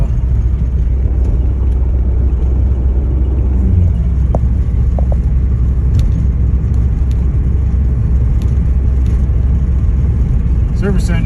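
A 1990 Volvo 740 turbo wagon driving on its first drive after being brought back to running order, with a loud steady engine rumble and road drone from inside the cabin and faint scattered interior noises.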